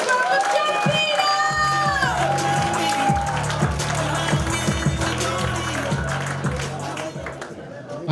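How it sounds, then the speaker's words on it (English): A comedy club crowd claps, cheers and whoops as a comedian is brought on during a live standup competition, the noise sustained under an emcee's shouting and loud walk-on music, fading slightly toward the end. "Keep the round of applause going for me. Louder, louder, louder, louder, please welcome John Pino!"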